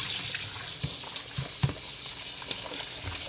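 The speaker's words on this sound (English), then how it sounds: "Just gonna rinse it off." Hot water runs and splashes steadily as salt mackerel is rinsed in a basin, with a continuous close gush broken by small sloshes and knocks.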